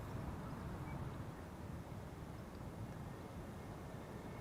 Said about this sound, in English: This is Transavia flight 5624, an A321neo arriving from Palma de Mallorca.